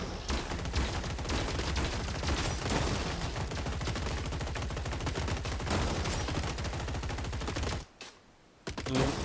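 Machine-gun robot in the video game Gladiabots fires a loud, continuous stream of rapid shots that holds for about eight seconds, breaks off briefly, then resumes near the end.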